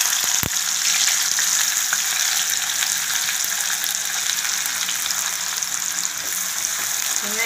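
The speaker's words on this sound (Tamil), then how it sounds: "வெங்காயம் போட்டுக்கலாம்" Onions frying in hot oil with mustard seeds and fenugreek for fish kuzhambu, a loud, steady, close crackling sizzle with one sharp clink near the start and faint stirring throughout.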